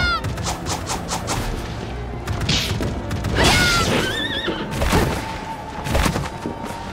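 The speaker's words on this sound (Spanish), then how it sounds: "Caballito. Caballito." A horse in the video game Bloodstained: Ritual of the Night neighs loudly in several shrill whinnies, mixed with thumping hoof clatter and sharp impact bursts.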